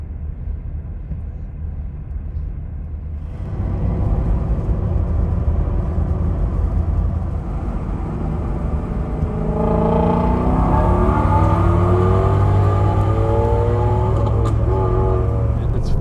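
A 2019 Shelby GT350 on a test drive, its engine and exhaust droning steadily inside the cabin. The sound grows louder and rises in pitch partway through as the car accelerates. No one speaks.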